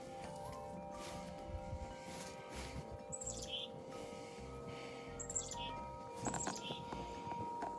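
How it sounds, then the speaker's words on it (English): Brief, high chirpy chickadee calls come in a few short bursts over a steady background hum, with faint rustling and soft noises at a bird feeder. "It's a chickadee bird."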